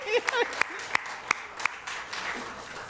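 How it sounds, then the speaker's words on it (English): A church congregation claps during a Sunday service, with scattered, uneven claps and a few louder strikes mixed with murmuring voices nearby. "Can we just applaud Jaryus for all the work he did today?"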